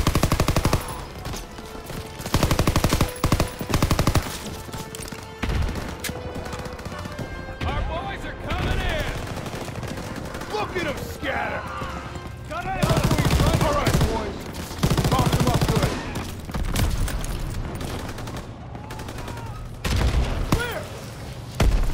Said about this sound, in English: I'm just open fire for all these people